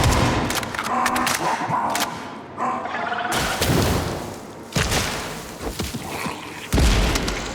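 Gunfire and explosions from the video game Atomic Heart: bursts of rapid shooting and heavy booms come in clusters, with short sharp blasts cutting in at intervals and a few brief gaps between loud volleys.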